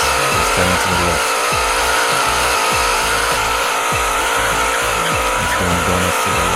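Simulated car drifting in the Roblox game Greenville, with a continuous engine roar and squealing tires as it slides left, loud and steady throughout with no talk.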